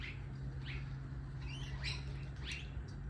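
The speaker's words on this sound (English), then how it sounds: "let me go and feed those birds now" Small birds chirp and tweet outdoors with a few quick, high calls spaced over a few seconds, moderately near, above a steady low background hum.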